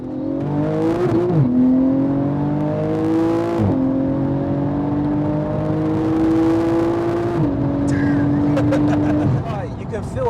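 A 900 bhp Porsche Turbo accelerating hard down a straight at night, its engine note climbing through the gears in three long, loud rising pulls with brief dips at each shift, heard from inside the car.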